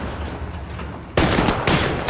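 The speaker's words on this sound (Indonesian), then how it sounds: "Masih ada suara tembakan di sini." Rapid bursts of gunfire in Call of Duty: Modern Warfare Remastered crackle loudly and continuously, with a sharper, denser volley in the second half.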